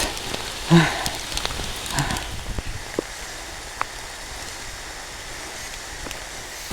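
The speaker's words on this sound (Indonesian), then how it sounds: "Seperti inilah pada saat mendaki hujan" Steady rain patters on surfaces nearby during a mountain hike, with a few louder rustles and taps early on, then settles into an even, soft hiss.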